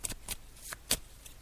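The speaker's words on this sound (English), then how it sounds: "so I'm just shuffling the cards" Tarot cards riffle-shuffled in four quick bursts, each a crisp rustling flutter separated by short pauses, close and fairly loud with no talk.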